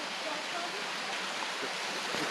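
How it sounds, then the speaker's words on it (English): A distant waterfall seen from clifftop bushland in Barrington Tops, New South Wales, Australia, makes a steady, soft broadband rush of falling water that stays even and unbroken throughout. "there's a beautiful waterfall in the distance"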